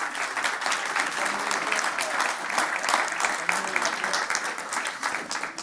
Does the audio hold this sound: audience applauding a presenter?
yes